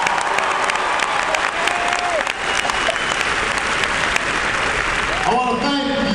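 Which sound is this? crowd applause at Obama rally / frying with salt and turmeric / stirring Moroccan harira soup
crowd applause at Obama rally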